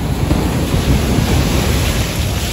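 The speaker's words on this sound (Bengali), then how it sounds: "জলের কি স্রোত, মানে বিভর্ষ জলের স্রোত আজকে" Strong sea current and crashing surf at Digha beach, a loud continuous roar of waves with wind buffeting the microphone, no voices.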